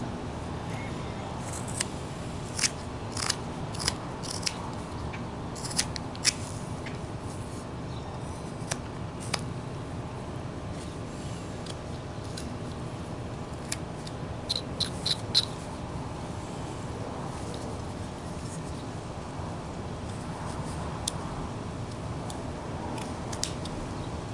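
Small, sharp knife cuts in wood while carving a fox figure, scattered faint snicks over a steady low background hiss.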